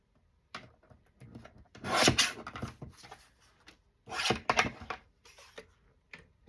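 A six-inch paper tag is cut in half with a cutter, heard as a few short, close scraping rasps separated by quiet gaps.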